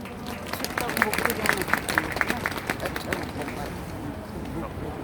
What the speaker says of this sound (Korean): 자, 큰 박수로 맞아주시기 바랍니다